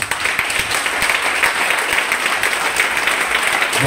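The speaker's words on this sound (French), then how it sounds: "Si tu es devenu chrétien, acclame le Seigneur." A church congregation applauds and acclaims the Lord during a sermon, with continuous loud, dense clapping from a crowd close by and a few sharper individual claps.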